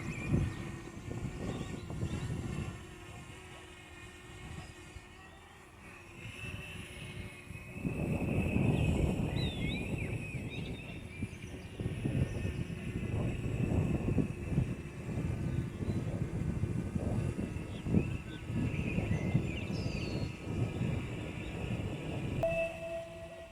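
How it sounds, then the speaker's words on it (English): A Potensic Atom drone ascending and circling in spiral mode outdoors, with a steady high whine over a fluctuating, broad rumble that grows louder midway and holds. "The drone ascends and spirals around the subject."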